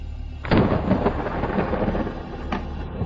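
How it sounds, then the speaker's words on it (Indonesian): Rain falls steadily while thunder cracks sharply near the start and rumbles again later, a stormy mix of downpour and thunderclaps without voices. "Hujan."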